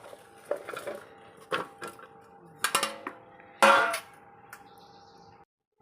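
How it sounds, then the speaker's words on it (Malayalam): Raw mango pieces being stirred with salt in a bowl for pickle, giving a few scattered clinks and scrapes of utensil against the vessel at close range, with quiet pauses between and no talk. "ഒന്ന് ഇളക്കി എല്ലാ സൈഡും ഒന്ന് ഉപ്പാകത്തക്ക രീതിയിൽ ഒന്ന് ഇളക്കി കൊടുക്കുക"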